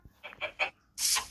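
Three short clucks in quick succession, then a louder, harsher squawk, crisp and close like a game sound effect, from a chicken in Minecraft.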